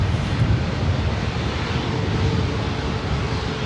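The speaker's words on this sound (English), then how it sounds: "Next up, Southwest Airlines flight 2043 heading to Honolulu, 737 MAX 8." A Southwest Airlines Boeing 737 MAX 8 at LAX gives off a steady, loud, broadband jet roar with heavy low rumble that holds unbroken for several seconds, with no voices.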